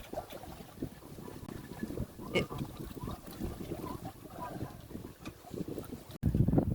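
A sailboat making about 4 knots in roughly 10 knots of wind, with steady water rush and wind buffeting on the microphone throughout, a brief louder gust or splash near the end.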